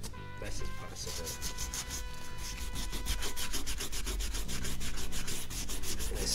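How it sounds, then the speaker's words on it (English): Rhythmic hand sanding with sandpaper on engine parts from a 2014 Harley-Davidson bottom end rebuild, a steady series of close, even back-and-forth rasping strokes throughout. "And I switched over to the other sandpaper now."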